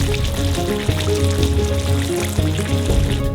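Uzbek pilaf rice in a large cauldron sizzles steadily up close as it is scraped and pushed into a mound at the center, with a continuous frying hiss and soft scraping bumps and no talk.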